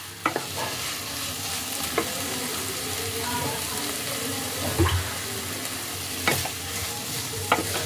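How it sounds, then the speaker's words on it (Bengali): Grated coconut stirred into radish in a frying pan for a Bengali prawn and radish ghonto, giving a steady sizzle with scraping spatula strokes and occasional clinks, fairly close and without speech. "মূলোর সাথে খুব ভালো করে মিশিয়ে নিতে হবে"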